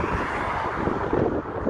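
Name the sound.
wind blowing into the microphone outdoors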